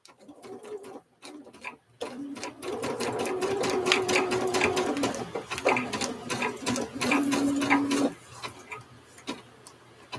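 A sewing machine stitches thread down in bursts, its rapid needle clatter running loud and close for several seconds at a time with short pauses between runs.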